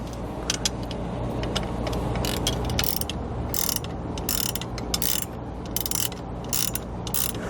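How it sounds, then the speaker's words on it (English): Ratcheting clicks from a 14mm socket ratchet wrench tightening bolts while mounting a Roadmaster Tow Defender screen on a towed vehicle, coming in repeated bursts of rapid clicks over a steady mechanical hum. "To tighten these down, we're going to use a 14mm socket and wrench."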